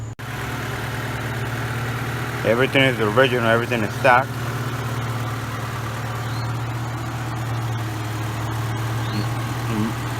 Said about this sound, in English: I'm gonna show you now the engine.